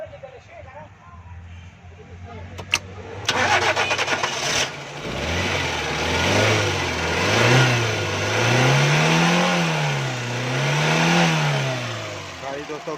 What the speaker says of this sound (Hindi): गाड़ी दोस्तों बिल्कुल सही स्टार्टिंग दे रही है